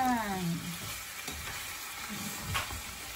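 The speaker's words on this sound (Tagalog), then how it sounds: "Kaya ko po siya ginisa sa butter" Chicken pieces sautéing in butter in a pan for creamy pineapple chicken, a steady close sizzle with stirring scrapes and a few spoon clinks, no talking.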